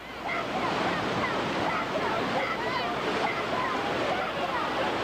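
Class 5 whitewater rapids on the Gully River roar in a steady, dense rush of churning water, loud and close throughout.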